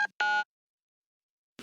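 A telephone dials out in an animated cartoon home scene: two short electronic beeps in quick succession, then silence until a faint sound at the very end.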